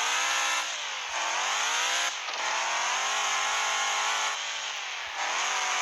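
Fox Body rally car engine in the Off Road Outlaws video game, droning loudly and steadily with repeated rev dips and climbs as gears shift, no voices.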